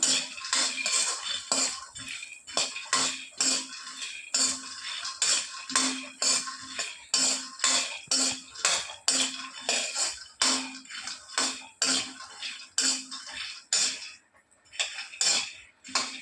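Peanuts roasting and being stirred in a pan, giving a steady run of close, rhythmic scraping and rattling strokes with a brief quieter pause near the end.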